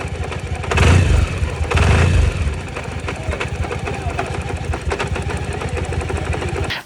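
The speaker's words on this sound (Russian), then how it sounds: "послушайте, как должен настоящий, хороший такой дизельный звук звучать, который вот-вот наружу выйдет" Suzuki Burgman 650 maxi-scooter engine idling with a gruff, diesel-like throb, revving louder twice in the first two seconds and then settling into a steady, close low rumble.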